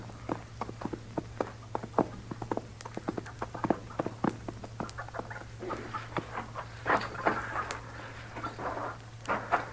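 A series of sharp hoof clops in an old-time Western radio drama, irregular and moderately close, over a steady low hum, growing busier toward the end.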